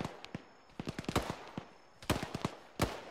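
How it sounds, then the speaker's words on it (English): AK rifle fire inside the Arma 3 combat game sounds as scattered bursts of distant gunshots: a tight cluster of cracks, a pause, then another volley and a final shot. No one talks. "Is that AK fire I'm hearing?"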